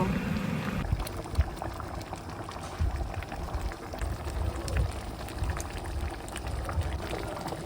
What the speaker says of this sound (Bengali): তারপর এটা একটু উতরানো আসছে